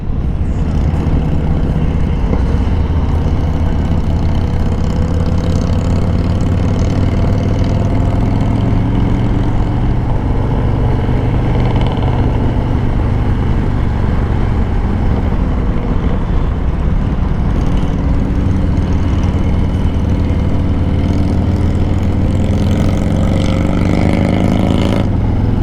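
A belt-driven Harley-Davidson motorcycle engine idling nearby, a loud continuous low rumble that holds steady for the whole stretch with no one speaking.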